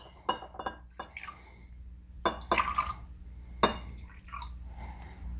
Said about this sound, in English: Let's go ahead and pour a little bit into each cup.